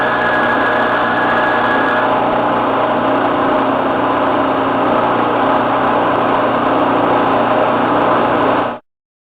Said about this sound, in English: we're headed to the sander to fix that